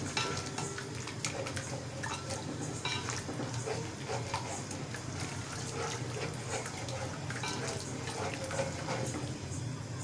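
A spoon scrapes and clinks in a pot while chicken tikka for biryani is stirred with crushed red chilli and biryani masala, a fairly faint steady mix of stirring clatter and light sizzling.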